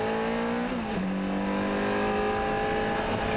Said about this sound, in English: Bob Berridge out front in this 1989 Sauber C11